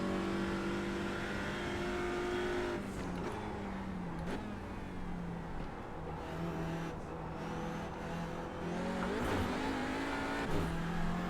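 TCR cars launching at the start of an iRacing race at Sonoma, engines revving and shifting in overlapping pitch sweeps, a dense, loud pack with no talking.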